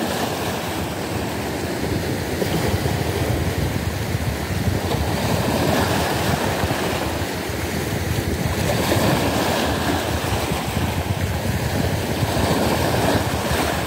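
Rough sea surf washing steadily onto a Turkish shore during bass and mullet fishing, a continuous loud roar of breaking waves with wind buffeting the microphone and no talk.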